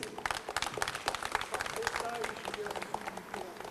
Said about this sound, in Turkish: şöyle güçlüce bir alkışlayabilir miyiz?